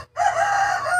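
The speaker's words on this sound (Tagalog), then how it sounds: "Yan ang manok namin dito." A rooster crows once, loud and close, a single sustained call that fills the whole moment without any talk.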